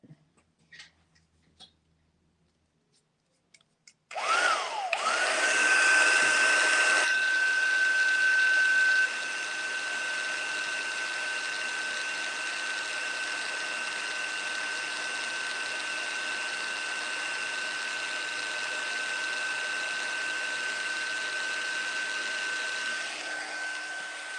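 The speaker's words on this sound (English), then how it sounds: "Now I'll heat set with my heat tool." A handheld heat tool used to heat set a craft project switches on after a few soft taps and blows with a steady, airy whine and hum. It stays loud and constant for about twenty seconds.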